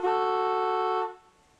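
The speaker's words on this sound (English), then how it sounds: "that's obviously the air horn up there fitted onto the vehicle" An air horn fitted on a vehicle gives a single loud, steady blast of about one second, then cuts off abruptly, leaving quiet background.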